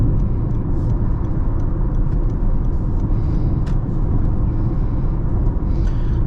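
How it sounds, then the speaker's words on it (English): Steady interior road and engine drone of a 2023 Honda HR-V driving through a corner at higher speed, constant and moderately loud with no talk. "Let's try to take this corner at a little bit of a higher speed and see how this HRV handles."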